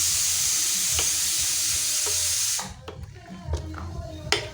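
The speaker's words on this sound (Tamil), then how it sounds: "இப்போ நல்லா மிக்ஸ் பண்ணி விடலாம்" Avial being mixed with salt and curd in a pot gives a steady hiss for the first half, then gives way to irregular spoon scrapes and soft wet stirring knocks, close and moderately loud.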